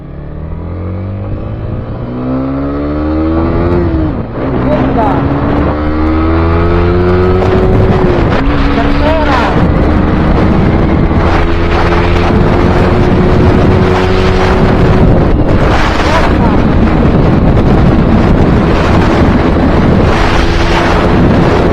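A Sniper 155 motorcycle ridden on the road, captured by an Akaso V50 Pro action camera, gives a loud engine note that climbs and shifts through gears under constant heavy wind roar buffeting the microphone.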